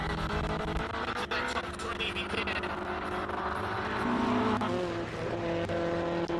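A classic Alfa Romeo racing car laps a track at Simola, its engine note rising and falling through gear changes as other cars pass, under excited race commentary.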